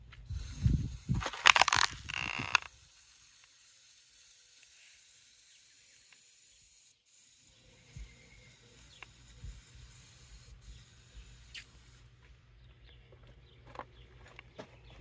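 Aerosol spray aimed at wasps in a car engine bay, a loud hissing burst in the first few seconds, then quieter rustling and faint scattered clicks against a steady low hum.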